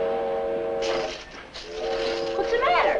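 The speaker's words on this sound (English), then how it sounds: "It's the evening freight train, that's all." An evening freight train sounds its horn in a sustained, chord-like blast that breaks briefly and then resumes, set against a faint rumble of the train in the distance.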